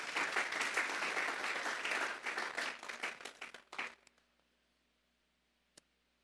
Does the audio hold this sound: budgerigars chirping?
no